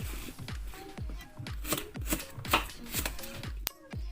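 Knife chopping an apple into small pieces on a board, a quick series of sharp, close taps in an irregular rhythm with brief pauses between strokes, and no talk.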